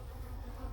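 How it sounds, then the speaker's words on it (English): Russian honey bees buzz in a low, steady drone at close range during a honey super inspection, fairly quiet, with no voices. "Lots of bees though."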